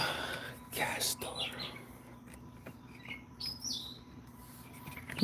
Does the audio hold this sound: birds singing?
yes